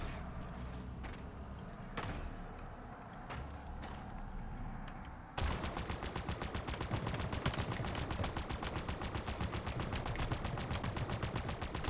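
Ghost vehicle in Halo Infinite used as a stationary turret, firing a long rapid burst of repeated shots that starts abruptly partway through and continues to the end, loud over quieter game ambience.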